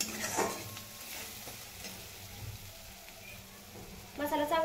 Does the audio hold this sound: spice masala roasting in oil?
yes